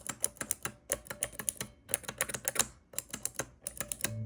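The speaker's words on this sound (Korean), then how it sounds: "이 소리는 청축 소리고요" A mechanical keyboard with blue clicky switches, typed on in quick uneven bursts of sharp, close clicks with short pauses between runs, no talk.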